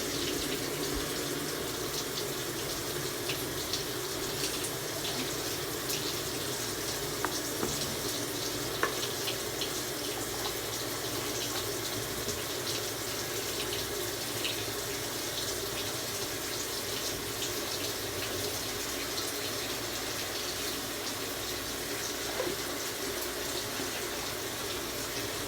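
A washing machine fills with water, a steady rushing hiss that runs unbroken and at an even level, with no other sounds on top.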